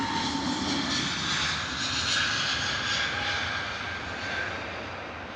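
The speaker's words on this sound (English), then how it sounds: "Beautiful Etihad Airbus A380 arrival into London Heathrow this morning" An Etihad Airbus A380 jet arrives into London Heathrow in the morning, giving a steady, loud engine roar with a broad rushing hiss that holds throughout and eases slightly toward the end, with no voices.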